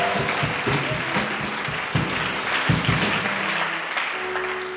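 A church congregation claps and cheers in praise of God, a sustained wash of applause with rhythmic clapping and voices that thins out near the end.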